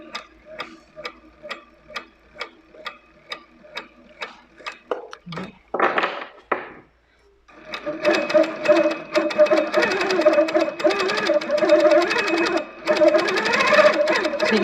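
Quilting sewing machine stitching a quilt at reduced speed, first a slow, even series of distinct stitch clicks, then a short break and some handling noise, then denser, faster continuous running close by.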